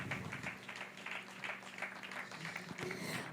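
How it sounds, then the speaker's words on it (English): A steady wash of audience applause at an award ceremony, moderately distant, with dense overlapping claps sustained for a few seconds and no voices. "We can give them a big round of applause."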